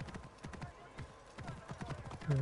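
A horse gallops in Assassin's Creed Origins on PS4, its hooves pounding in a rapid, steady rhythm throughout, fairly close, with a brief tonal game sound at the very end.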